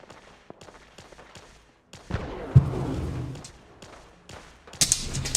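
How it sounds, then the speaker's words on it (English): A few sharp Gauss rifle gunshot cracks ring out in Fallout 4 amid scattered thuds and rumbling game noise, with a loud burst of shots near the end. "That sounded like a Gauss rifle."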